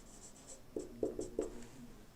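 A pen or chalk writing an equation during a physics lesson: a short run of four or five quick, distinct scratching strokes at close range, with no talk over them.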